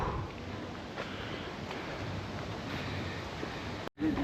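Wind blows across an open hillside overlooking a city, a steady rushing hiss close to the microphone with gentle gusts, briefly cutting out near the end.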